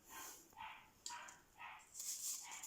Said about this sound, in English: There's the dog in the background